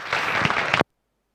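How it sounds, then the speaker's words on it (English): A short burst of applause for a race winner at the SRF Season 1 Round 1 Mugello results announcement, dense clapping lasting under a second before cutting off abruptly into silence. "Big round of applause, please, for Alex Sadler."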